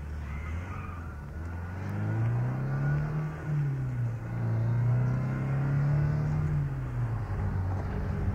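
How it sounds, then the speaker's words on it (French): Bus pulling away as a radio drama sound effect, a loud, close engine rumble that rises and falls with gear changes, steady and unbroken with no voices over it. "Ils prennent l'autobus. Eh ben, on va suivre l'autobus."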